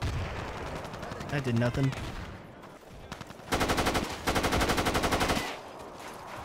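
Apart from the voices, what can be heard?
gunfire in video game Battlefield 2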